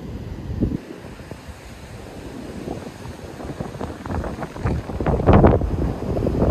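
Sea waves and gusting wind at Hồ Cốc beach in Vũng Tàu, a rough, rumbling wash of surf with wind buffeting the microphone and growing louder toward the end.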